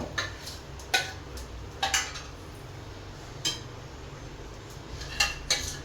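A spoon stirs rava pongal made with roasted rava and moong dal in ghee in a pan, giving sparse metallic clinks and scrapes against the pan over a low, steady background hum.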